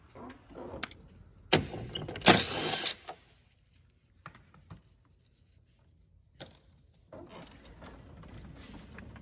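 Socket wrench with a 10mm socket working the headlight mounting bolts on a Honda Ridgeline, giving scattered close mechanical clicks and ratcheting bursts, loudest in a short run early on, then sparse taps and rattles.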